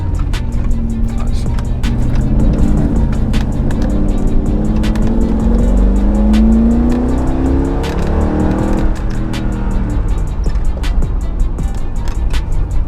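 A 7,000-pound Mercedes G55 AMG accelerates hard, its engine note climbing steadily in pitch through the gears with a brief dip at a shift, loud and close from inside the cabin.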